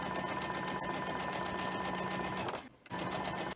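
A sewing machine runs continuously while stitching a quilt block, a close, steady motor whir with rapid needle chatter that dips briefly to near silence before resuming.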